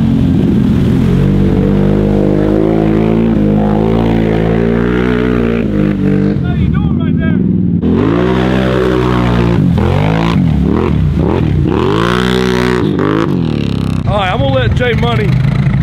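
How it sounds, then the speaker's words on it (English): A Can-Am 570 Outlander ATV with an RJWC exhaust and tune revs hard and loud up close, its pitch surging and dropping repeatedly through throttle blips, with voices occasionally over the engine. "Cruz over here on his 570 Outlander. He's got his RJWC exhaust, his tune."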